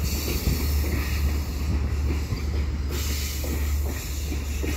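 A four-car EXO commuter train rumbles steadily past at close range over the small Perry Island bridge, which has gauntlet track. A low continuous roar, faint rhythmic clacking of wheels and a thin high hiss over the top.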